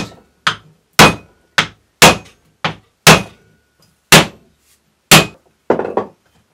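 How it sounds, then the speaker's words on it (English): Nine sharp, solid knocks at uneven intervals as clay is knocked into a stamp, each a hard thud that quickly dies away, with silence in between. "to knock the clay into the stamp"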